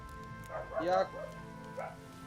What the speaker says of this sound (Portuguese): Olha esses cachorros